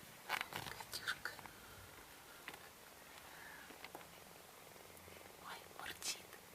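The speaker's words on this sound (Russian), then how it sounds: "Ой, мурчит." A three-week-old kitten purrs softly up close, a faint continuous rumble under quiet whispered talk and a few brief rustles.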